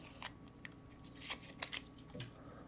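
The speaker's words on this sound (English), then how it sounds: "I'm going to take this tape back off now." Adhesive tape is peeled off a folding knife in a few faint, brief crackling pulls close by, with soft handling clicks between them.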